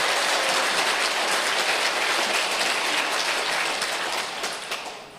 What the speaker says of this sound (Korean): 법적으로 판단해 주신 정현돈 변호사님께 감사의 박수를 부탁드립니다